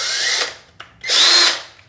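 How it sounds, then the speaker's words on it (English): A cordless drill whirs in two short bursts, revving up and winding down with a brief pause between, close and loud. "So I have this cordless drill here"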